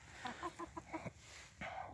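A broody Barred Rock hen clucks in a short run of soft, rhythmic clucks followed by a longer drawn-out call, fairly faint and close in a quiet coop.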